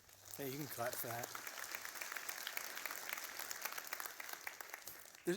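An audience at a Kensington church service in Clinton Township applauds in a faint, sustained wash of clapping that starts after a brief spoken voice and fades near the end.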